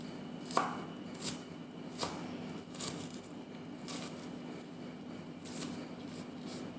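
Okra and squash are chopped on a cutting board, giving about eight evenly spaced, fairly quiet knife knocks against a steady background hum, with no talking.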